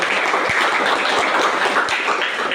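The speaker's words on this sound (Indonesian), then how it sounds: "mari kita memberikan aplaus untuk" A classroom group applauds student presenters, giving dense, steady hand clapping from many people throughout, with a few sharper individual claps standing out.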